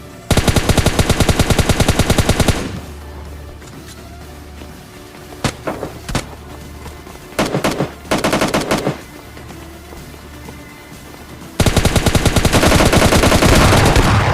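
Rapid automatic gunfire bursts in BGMI/PUBG Lite, loud and close, with long sustained volleys at the start and end and short separate shots in between.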